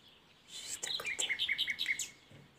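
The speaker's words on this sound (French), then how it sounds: "j'ai un merle là, juste à côté." A common blackbird sings close by on an early June morning, a quick run of clear, varied whistled and chirping notes lasting about a second and a half over a quiet background.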